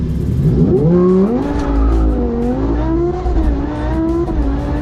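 A Lamborghini launches on a 0-60 mph run, its engine roaring loud and close as the pitch climbs, drops at each gear shift and climbs again, with no voices over it.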